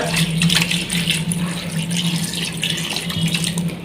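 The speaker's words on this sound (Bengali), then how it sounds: "আমি হালকা একটু পানি দিব খুব বেশি পানি দিব না" Water runs and splashes in a steady stream into a pressure cooker while cooking nihari, close up and continuous for a few seconds.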